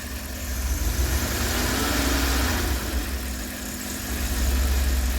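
A Dodge conversion van engine runs on its first start after a head replacement. It rises slightly under a bit of throttle and then settles back to a steady, slightly uneven idle, close and continuous with no talking.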